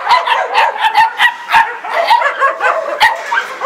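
Karelian-Finnish Laika dogs bark in a rapid, irregular series of sharp, close barks and yips, several dogs overlapping outdoors, fairly loud with no talk.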